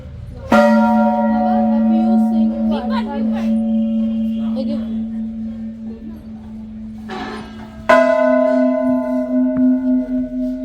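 Brass temple bells ring at Chitai Golu Devta temple in Almora, Uttarakhand, where devotees tie bells. Two loud, close strikes each leave a long resonant hum that slowly fades, with faint voices underneath.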